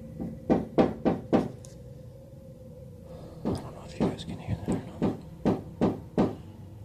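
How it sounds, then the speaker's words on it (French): Someone knocks on a door at night: a burst of four quick raps, a pause, then a longer, uneven series of knocks, close and sharp, with a low hum beneath. "il a commencé à entendre quelqu'un ou quelque chose frapper à sa porte"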